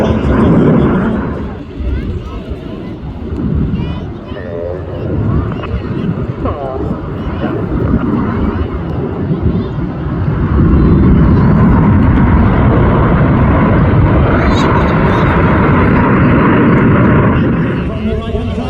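Red Arrows jets performing a display at Clacton Airshow, a loud continuous roar that swells and rumbles throughout, with a commentator talking over a public address.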